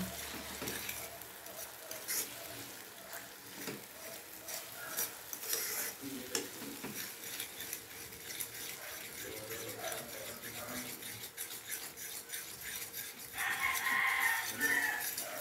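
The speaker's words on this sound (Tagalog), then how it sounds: "Haluin natin para hindi magbuo ang itlog" Corned beef and eggs stirred in a frying pan, a spoon scraping and clicking against the pan under a constant gentle sizzle, growing a little louder near the end.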